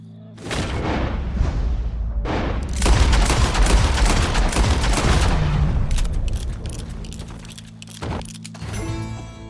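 Gunfire in Red Dead Redemption 2 played on PS5, a rapid burst of loud booming shots and echoes that rolls on for several seconds, with brief gaps between volleys.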